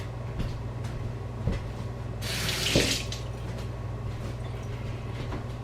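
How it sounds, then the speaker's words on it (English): A kitchen tap runs in a bright, steady burst for about a second while hands are rinsed, rising over a low constant background hum and occasional faint knocks. "give me a minute to rinse my hands real quick"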